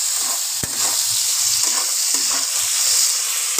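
Vegetables for vegetable chowmein frying in a hot pan, a loud steady sizzle broken by a sharp knock and several scraping strokes as they are stirred, heard up close.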